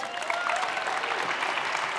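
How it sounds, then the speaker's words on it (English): A church crowd applauds after a game's winner is declared, a steady wash of many hands clapping close by for about two seconds, with no voices standing out. "Give these guys a round of applause."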